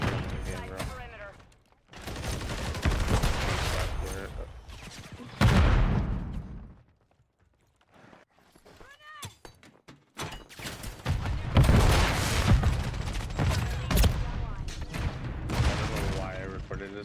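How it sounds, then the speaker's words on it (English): Dense bursts of gunfire and heavy thuds come from the video game Helldivers 2, loud sustained volleys broken by a short quiet stretch, with a voice speaking at times among them. "look at the kind of shots I'm doing in the game, bro"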